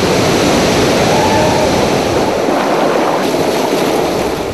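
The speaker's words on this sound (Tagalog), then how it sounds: "Ang Pagsanghan o Magdapio Falls ang magsisilbing kilometer 0 sa aming" Pagsanghan (Magdapio) Falls pours into its river. A loud, steady roar of falling and rushing water fills the clip from start to end with no pauses, heard up close.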